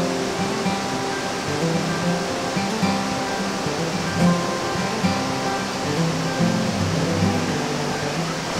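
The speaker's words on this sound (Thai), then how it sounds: "เป็นแอ่งน้ำนะที่น้ำตกไหลลงมาจากภูเขา" Phlio Waterfall in Chanthaburi, Thailand, pouring down the mountain into a pool, a loud, steady broadband rush of falling water that stays even throughout with no voices.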